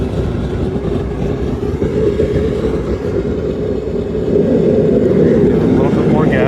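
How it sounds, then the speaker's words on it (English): A Bob Alexander gas forge with a ribbon burner roars steadily and loudly up close, a dense, continuous rushing flame noise that swells slightly toward the end. "Look at that ribbon burner go"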